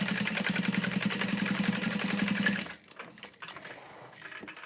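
A sewing machine stitches a handmade wallet in a steady, rapid mechanical run for over two seconds, close and fairly quiet, then stops, leaving faint handling clicks and rustles.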